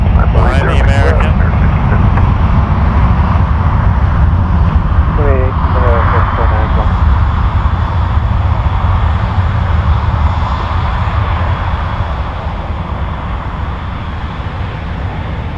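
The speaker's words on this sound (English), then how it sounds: "And the RJ taking off here" A regional jet takes off at Toronto Pearson Airport, its engines roaring loud and steady throughout, with people talking over the noise and a brief radio-like voice near the start.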